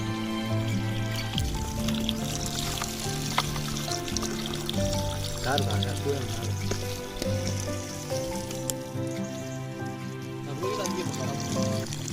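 Mountain spring water pouring and trickling near a lake in the hills, a continuous bright splash heard under someone talking and a layer of background music.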